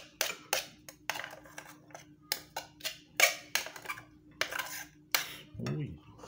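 A spoon serves beans and rice onto a plate for lunch, with a brisk series of close metallic scrapes and clinks against the dish, each short and sharp, repeating about a dozen times with no talking.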